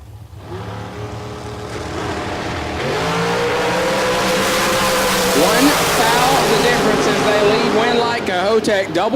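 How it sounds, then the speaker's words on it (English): Drag race cars roaring down the strip at a Texas Motorplex bracket race, a loud sustained engine howl that swells and holds, with an announcer talking over it throughout. "Cahotek double breakout drag race"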